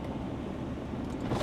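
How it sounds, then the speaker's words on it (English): Electric window motor whirring steadily inside a 2015 Audi SQ5 3.0 TDI Quattro, a continuous low hum that stays close and even, rising slightly in strength near the end. "Full electric window."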